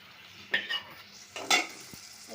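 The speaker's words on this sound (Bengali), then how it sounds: "এখন এই যে মশলাটা দিয়ে দিই" Spice paste of turmeric, chili powders and coriander, cooked for a hilsa and taro dish, gets stirred in a frying pan, giving two short scraping, sizzling bursts over a faint background hiss.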